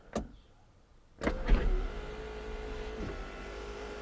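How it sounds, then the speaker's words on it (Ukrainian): An electric sunroof on a Daewoo Lanos Coupe whirs open after a couple of sharp clicks, a steady motor hum running for about two seconds before it stops, close and fairly quiet. "Значить, Люк у нас працює."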